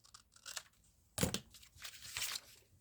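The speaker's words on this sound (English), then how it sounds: "So we'll just cut this section apart." Paper journal section being cut apart, quiet crisp snips and tearing rustles with one sharper louder tear in the middle and crinkling afterward, close and soft.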